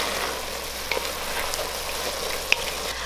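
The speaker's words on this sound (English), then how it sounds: "I'm gonna mix well again." Seasoned turkey and mushroom rice soup stirred in a pot, a steady low bubbling and simmering hiss with a couple of faint spoon clinks against the pot, no voices.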